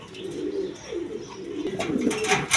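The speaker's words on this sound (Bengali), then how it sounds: "এক পেয়ার মন্ডিয়ান কবুতর আছে একদম বিগ সাইজের" A big Mondian pigeon pair coos in a cage, a steady low warbling run of coos close by with a brighter flutter of sound near the end, no one talking.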